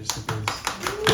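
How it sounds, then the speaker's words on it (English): Several hands clap in a quick round of applause, giving a handful of distinct, evenly spaced slaps with a voice speaking briefly over them. "I would like to give a quick round of applause"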